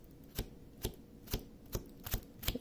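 A stiff diamond painting canvas flexed by hand gives about six sharp, crackling snaps spaced roughly half a second apart, close and fairly quiet, with no talking.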